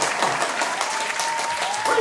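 Clapping from several participants in a live online show comes through at moderate, fairly even loudness with a few sharper individual claps, and no one speaks over it.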